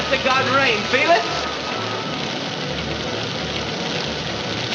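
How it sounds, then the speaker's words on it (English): Steady rain patters on a surface, a soft continuous hiss, with a brief voice-like sound near the start. "It's rain! Landing on us to God rain."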